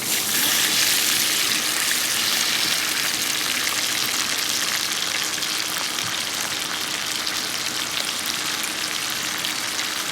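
Chopped onions sizzle loudly in a pan just after water is added for a Bangladeshi chickpea-lentil patishapta filling, a continuous close hiss and bubbling crackle that stays strong and even.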